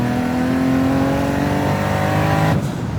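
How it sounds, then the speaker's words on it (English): A single-turbo Nissan Skyline R32 with an open wastegate revs loud and close, its harsh engine note climbing steadily before cutting off sharply near the end. "Open wastegate, as you can hear."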